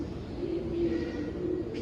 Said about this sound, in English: Pigeons everywhere.